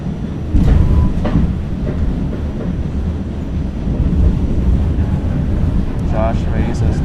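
A New York City subway train rides along with a steady low rumble and rattling carriage noise, with faint clickety-clack throughout and a brief squeal near the end, loud and close.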